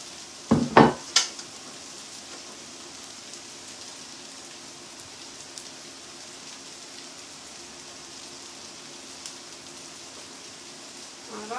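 Bacon and potatoes fry in hot oil, a soft continuous sizzle and crackle throughout, with a few sharp clattering knocks from a pan near the start.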